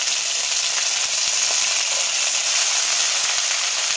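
Washed mint, coriander and curry leaves fry in a pan. A loud, dense sizzle crackles and spits close by, and small pops run through it for the whole stretch.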